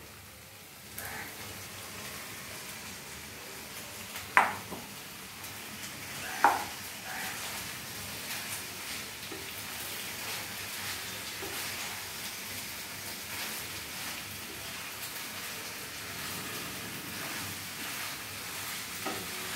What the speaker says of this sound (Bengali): এইবারে আমি এই মিশ্রণটার মধ্যে আমার সেদ্ধ করে রাখা পাস্তাগুলো দিয়ে দেবো।